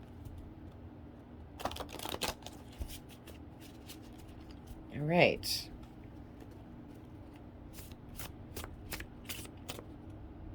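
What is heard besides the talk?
shuffling tarot cards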